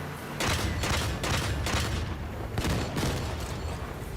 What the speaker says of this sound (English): they shoot at like the weirdest arc I've ever seen with any grenade launcher